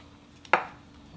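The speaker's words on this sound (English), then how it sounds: "cut our tomatoes" A single knife chop through fresh tomatoes, cut crosswise on a board while a beef stew is prepared, heard as one sharp, close stroke followed by a short fading tail in a quiet kitchen.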